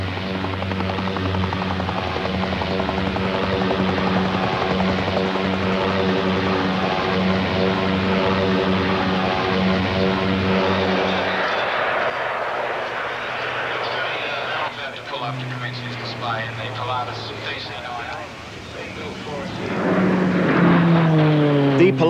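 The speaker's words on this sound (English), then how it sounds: "This is a plane right out of Australian folklore, the Nomad, designed and built in Australia." A Nomad, an Australian-designed and built twin-propeller plane, flies at the 1988 Australia Bicentennial Airshow, its engine droning steadily and then shifting in pitch as it passes, with a commentator talking over it.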